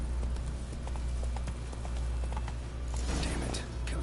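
Horse hooves clip-clop in the Witcher 3: Wild Hunt video game, a steady walking gait of muffled thuds over a low ambient rumble, with a brief rise in noise near the end.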